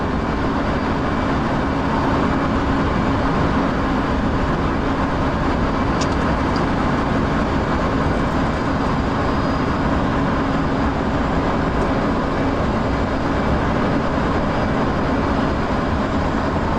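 F/A-18 Hornet jet engine noise while taxiing in the DCS flight simulator game, a steady, loud, continuous roar and whine with no breaks throughout.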